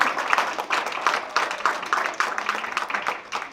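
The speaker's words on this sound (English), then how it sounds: "Let's give a round of applause." An audience at a music listening party applauds, with dense, steady clapping across the whole stretch and no voices over it.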